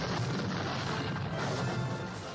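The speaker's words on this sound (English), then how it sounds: "Now this artillery can see these guys, so we're going to have a go at these guys." Artillery fire in the John Tiller Napoleonic Series game at the Battle of Talavera: a dense, rumbling wash of booming cannon, steady and moderately loud throughout with no voices.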